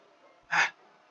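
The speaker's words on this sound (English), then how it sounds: "A sharp inhale, like something is sucking the air through their teeth." A single sharp hissing inhale drawn through the teeth, voiced for the video game Doki Doki Literature Club: a brief close breath burst against a quiet background.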